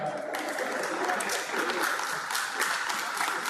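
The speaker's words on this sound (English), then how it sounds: "Guys, can you all clap, please?" Crowd at a Hyundai company town hall applauding, a broad, continuous wash of clapping from many people that stays steady throughout, with some voices mixed in.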